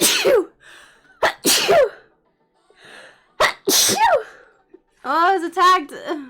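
A single sharp sneeze bursts out in a school setting, followed by gasps and people talking with one another close by.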